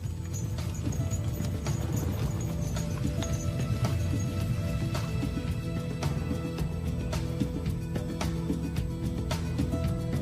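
Horses pull an ancient Egyptian-style chariot, hooves clip-clopping steadily and close throughout, with a driver shouting urging calls over the running.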